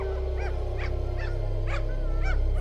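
Several dogs call out into the night near railway tracks in Enfield, Illinois, with a string of about six short rising howls and yips over a low steady hum.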